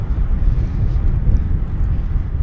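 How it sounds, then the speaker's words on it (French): Wind buffets the microphone during a gravel bike ride near the Seine from Fécamp toward Rouen, a loud continuous low roar with no voices. "j'ai un petit vent 3/4 face là ce matin"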